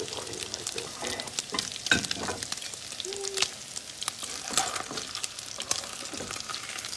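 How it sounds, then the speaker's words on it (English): Bacon sizzles and crackles steadily in a pan for a gluten- and dairy-free home meal, a continuous close frying hiss broken by sharper pops and the occasional scrape of stirring, with no voices. "I'm gonna put the bacon on here"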